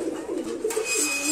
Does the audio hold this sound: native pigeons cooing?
yes